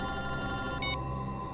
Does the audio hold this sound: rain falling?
no